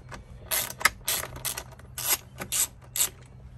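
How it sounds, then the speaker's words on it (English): A 1/4-inch ratchet with a 3-inch extension backs out a Torx screw during a paddle shifter install in a 2015+ Chrysler 200, giving a series of quick, close clicking bursts in an uneven rhythm with no talk. "We got like a 3-inch long extension on a 1/4-inch ratchet. So you wanna take that Torx out."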